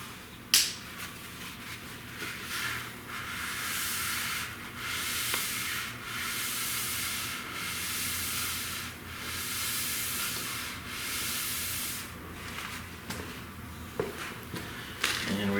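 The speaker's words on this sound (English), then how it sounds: "just give her a quick wipe down with some acetone" A rag soaked in acetone wipes a brake dust shield during a V8 Crossfire big front brake install, making close, rhythmic rubbing strokes that repeat under a second apart, with no talk.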